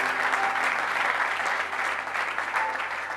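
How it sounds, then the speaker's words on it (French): A church congregation applauds steadily after a scripture reading, dense sustained clapping filling the room without a break. "Est-ce qu'on peut acclamer la parole du Seigneur?"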